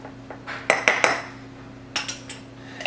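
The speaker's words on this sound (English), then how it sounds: "Just give it a little bit of stir." Sauerkraut with jalapenos being stirred in a jar with a metal utensil: a quick run of close, sharp clinks and scrapes against the glass, a short pause, then another cluster of clinks.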